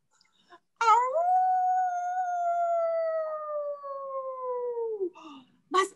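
Children imitate a dog's howl together in one long, drawn-out wavering note lasting several seconds, trailing off at the end, with a short burst of voices after it.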